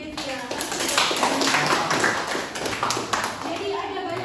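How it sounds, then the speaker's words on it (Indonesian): Classroom clapping for a student during an Islamic religious education lesson, a dense patter of many hands filling the room with children's voices mixed in throughout. "jadi tepuk tangan dulu untuk Jevia."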